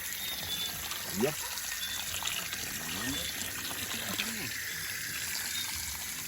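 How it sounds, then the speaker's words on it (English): Tap water runs steadily while raw bird meat is rinsed before seasoning, a continuous trickling wash with a few splashy moments, and someone speaks briefly over it. "So I'm just going to wash it off now with some water."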